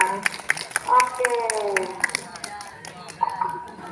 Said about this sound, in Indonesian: tepuk tangan untuk Jihan